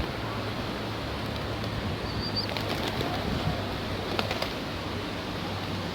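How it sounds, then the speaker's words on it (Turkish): Wild pigeons bathe outdoors, giving a few brief, soft wing flutters and splashes over steady background noise, fairly distant and faint. "Bakın arkadaşlar kuşlar banyo yaptı nasıl oldu?"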